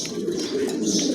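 A pair of Red Bar pigeons coo softly and closely, low throaty murmurs repeating over a brief moment with little else around.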